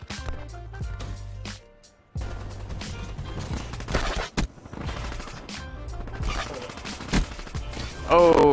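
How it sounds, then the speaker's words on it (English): Rapid gunfire from the video game Black Ops 3, with dense automatic bursts and sharp single shots layered together, loud and continuous apart from a brief lull, under game effects. "Who else is shooting at me?"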